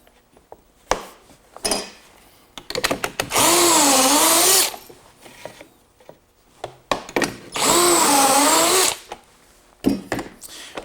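Power drill boring pocket holes through a Kreg jig, two sustained whining bursts a few seconds apart, loud and close, separated by clattering and handling noises.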